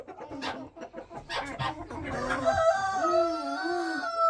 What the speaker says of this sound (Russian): Хороша курочка.